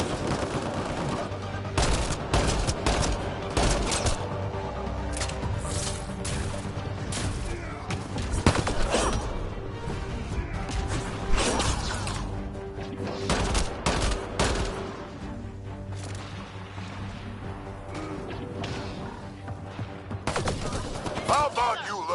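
Sustained gunfire from a firefight in the sci-fi shooter Mass Effect Andromeda, dense bursts of rapid shots and impacts with occasional heavier blasts, loud and continuous over game music, with voices speaking amid the fighting.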